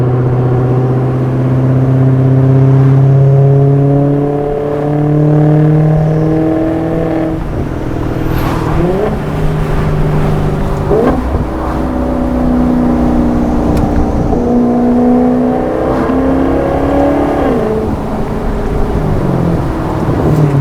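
A 2015 Maserati GranTurismo engine revs repeatedly, loud, its pitch rising and falling through several surges and gear changes, close by and continuous with no talking.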